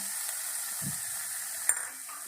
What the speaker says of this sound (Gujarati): હવે આપણે અંદર વઘારી દેવાનું છે.